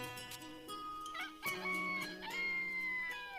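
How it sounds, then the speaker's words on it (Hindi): A rooster crows in the morning, its call blended into a faint, music-laden background with layered tones and sharp accents over a few seconds. "तभी मुर्गे के बाग देने की आवाज सुनाई देती है"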